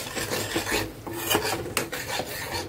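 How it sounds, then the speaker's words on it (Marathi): Yogurt is stirred into biryani masala in a pan, making a continuous rasping, scraping stir with irregular rubbing strokes close up and no voices. "मस्त असं चांगलं हलवून मिक्स करून घ्यायचं।"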